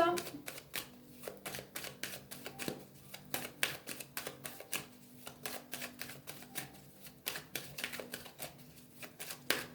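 Oracle cards cut and shuffled close by in a quiet room, a rapid run of crisp papery riffles and taps repeating throughout at low volume.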